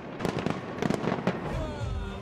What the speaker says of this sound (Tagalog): umilaw ang fireworks display sa London Eye